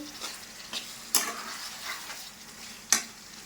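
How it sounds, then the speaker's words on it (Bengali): Fish curry with potatoes sautés gently in a pan, a low, quiet sizzle broken by a few sharp spatula clicks and scrapes against the metal. "তো চলো বন্ধুরা এটা কষানো হোক আবারও ফিরে আসবো এটা এখন কষানো হোক কষাতে দিলাম একটু"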